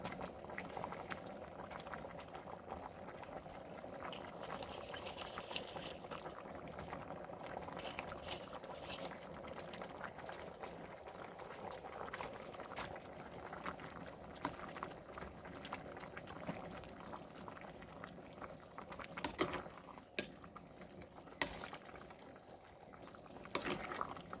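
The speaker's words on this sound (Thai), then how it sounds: "เอาน้ำเดือดอีกสักทีนะครับ" Water bubbling at a steady rolling boil in a pot for cooking dried Thai rice noodles, a continuous dense gurgle and hiss with occasional louder pops, close and fairly quiet.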